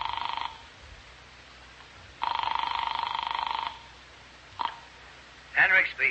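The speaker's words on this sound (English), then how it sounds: "I dialed Cal Hendricks' number in New York." Telephone ringing in a radio drama, two long buzzing rings of an older phone with a pause between them, followed by a click as the line picks up and a voice begins to speak.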